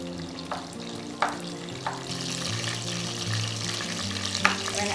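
Tomatoes and wood ear mushrooms simmer in a pan over low to medium heat, giving a steady soft sizzle and bubbling with a few brief utensil clinks and stirring scrapes close by.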